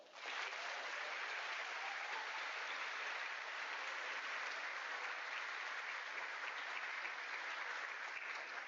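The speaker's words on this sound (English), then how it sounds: "be grateful when we give them a round of applause" Sustained applause from a school assembly audience honoring a United States Marine Corps lieutenant colonel on Veterans Day, a steady dense clapping that holds at even loudness throughout, with no talk over it.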